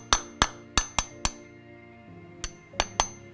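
A seal is tapped into a Mazda Miata transmission case with a hammer, giving sharp metallic knocks: five fairly evenly spaced strikes, a pause, then three more, close and loud with short ringing decay.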